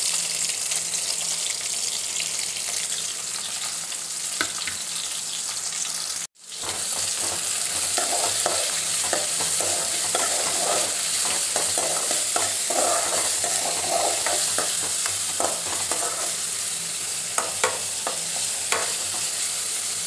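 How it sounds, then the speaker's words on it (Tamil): Onion, ginger and garlic sauté in a pan for horse gram chutney, a continuous close sizzle with frequent stirring scrapes and a brief pause partway, no voices. "லைட்டாக வதங்கட்டும், வெங்காயம் லைட்டாக வதங்கிடுச்சு"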